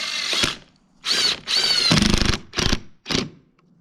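A power drill whirs in several short bursts of varying length, driving screws into a patio fascia board, close and clear with brief pauses between runs.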